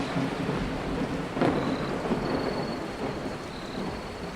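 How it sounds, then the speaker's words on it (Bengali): Thunder cracks close by during a thunderstorm, with a sharp burst near the middle and low rumbling over steady rain. "কড় কড় করে বাজ পড়ল নিকটেই কোথাও"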